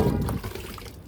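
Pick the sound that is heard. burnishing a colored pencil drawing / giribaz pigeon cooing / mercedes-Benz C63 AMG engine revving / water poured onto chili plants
water poured onto chili plants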